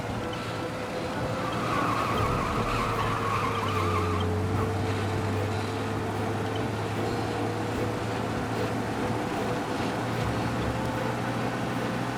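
In the video game Mafia: Definitive Edition, a car engine roars at high speed while escaping police, with a steady drone, tires skidding and squealing briefly, loud and continuous throughout.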